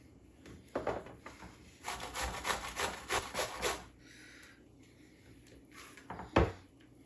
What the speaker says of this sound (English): I finished up grating our zucchini that we needed, plus I went ahead and grated that extra zucchini